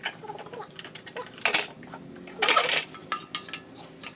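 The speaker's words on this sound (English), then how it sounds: "First, put a lot of ice cubes to the blender." Ice cubes dropped into a blender jar while preparing a strawberry smoothie, giving two bright clattering bursts among lighter scattered clinks, close and fairly quiet, with no talk.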